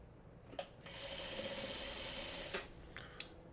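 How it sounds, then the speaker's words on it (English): A sewing machine stitches quilt block pieces for a Farmer's Wife star block, a steady whirring run of about two seconds framed by a few clicks and handling knocks, quiet and close with no voices. "so I'll sew this to this"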